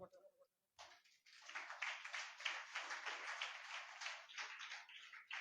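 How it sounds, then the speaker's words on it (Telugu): A church congregation in a village gathering claps hands in unison, a steady, fairly loud patter of many palms that begins after a short pause and continues to the end. "మేము ఇస్తామని చప్పట్లు కొట్టండి."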